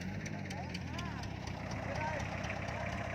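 A tractor pushes and levels topsoil in rural northeastern Thailand, its engine a steady mid-distance rumble that runs throughout, with a voice heard over the machinery.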